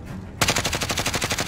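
Rapid automatic gunfire in the video game Warzone erupts after a short quiet lead-in, a fast even burst of about a dozen close, loud shots with no talk over it.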